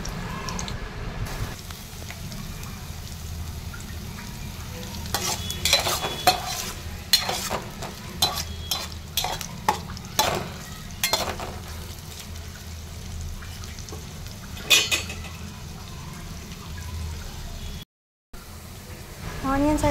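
Chopped onions and green chillies fry in a pan with a constant sizzle, broken by repeated spatula scrapes and stirs, while a voice talks intermittently over the cooking.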